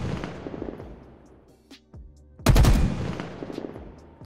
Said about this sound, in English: we're going to look at the Halo Infinite Battle Rifle sound